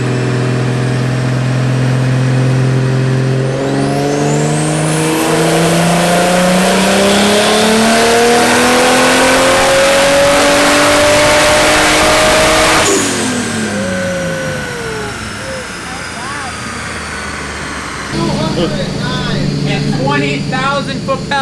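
An engine-swapped car runs on a dyno, its engine rising in one long, loud revving sweep for about ten seconds before cutting back to idle, with voices nearby afterward.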